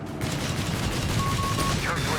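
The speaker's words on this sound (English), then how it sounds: "Engaging the anti-aircraft half take here under VonMant command" Anti-aircraft half-track firing in Company of Heroes 3, rapid bursts of automatic gunfire in a busy battle mix, fairly faint and under a commentator's voice.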